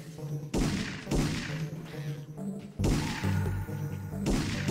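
Magnum handgun fire in Parasite Eve 2, several heavy booming shots spaced about a second apart, each with a thudding tail, loud and close.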